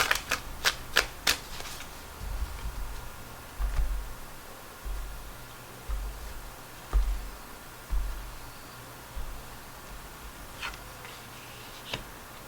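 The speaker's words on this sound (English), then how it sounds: "So now I'm going to shuffle for the outcome card." Soft riffling and light slaps of tarot cards being shuffled repeat in short bursts, with quiet taps and rustles between them, close up and fairly faint.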